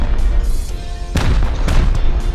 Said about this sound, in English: look at all these rockets coming in